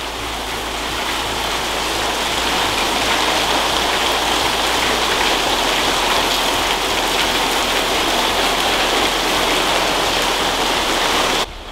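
Heavy downpour in a Sirenhead horror video game, a loud, steady, close roar of rain hitting surfaces that continues unbroken and then cuts off abruptly at the end.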